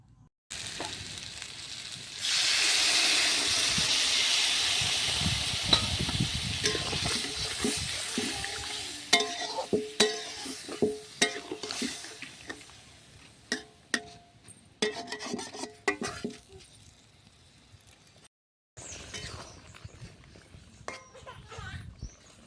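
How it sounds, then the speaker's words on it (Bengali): Water is poured into a village-style Bengali pointed gourd curry as it cooks in a pan. A hiss and sizzle build up, and scattered clinks and scrapes of stirring follow. A voice is heard at times. "এবার আমি পরিমাণ মতন জল দিয়ে দেব।"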